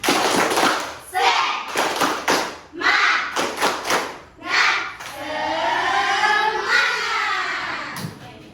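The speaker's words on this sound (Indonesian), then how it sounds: "1, 2, 3. Tepuk semangat." A primary school class claps the rhythmic 'tepuk semangat' spirit clap together, a run of sharp group claps in quick patterned bursts, loud and close in a classroom, with children's voices chanting and calling along.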